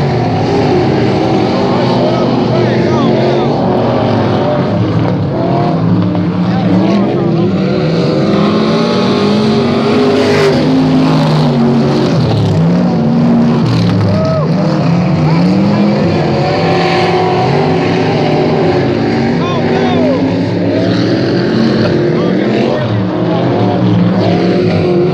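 Race cars roar around a track, engines loud and continuous throughout with shifting pitches as cars pass, under steady race commentary.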